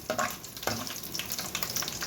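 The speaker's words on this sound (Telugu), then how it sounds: "పోపులు అవి వేగాయి కదా ఇందులో మనం ఉడికించుకున్న పప్పు వేసుకుందాము" Hot oil tempering with fenugreek and other spices sizzles as cooked dal for Andhra pappu charu is added, giving a close, steady frying crackle with a couple of louder splashes and stirs.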